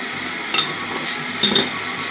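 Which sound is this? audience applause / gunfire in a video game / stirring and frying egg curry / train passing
stirring and frying egg curry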